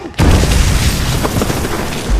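A mortar shell explodes in a war film battle over a military base, a sudden, loud, close boom that rumbles and sustains with heavy low-end roar, then swells again at the end.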